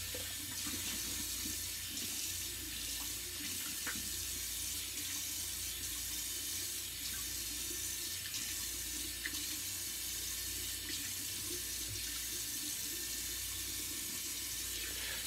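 Tap running steadily into a bathroom sink while shaving soap is rinsed off a face, a faint constant splashing flow with no voices.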